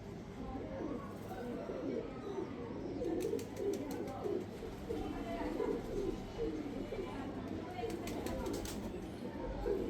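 A Black Panther Cheena Hino pigeon coos softly in repeated low phrases, mostly under someone talking nearby, with a few brief rustles and flutters.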